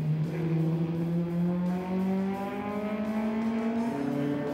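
Historic saloon race cars, a Volvo 122S among them, roar past together on a circuit. Loud engines rise and fall in pitch through the gears as the cars battle toward the final corner.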